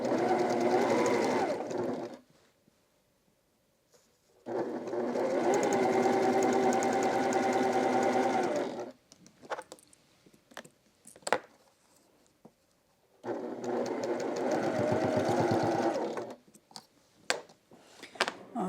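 Sewing machine stitching two fabric pieces right sides together, whirring in three steady bursts separated by quiet pauses with soft handling clicks of the cloth.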